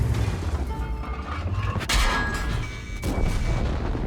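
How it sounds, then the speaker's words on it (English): A 120 mm tank cannon fires in World of Tanks, one loud blast cutting through a rumbling engine and mechanical battle din, with a second sharper report shortly after. "He's gonna shoot again with 120."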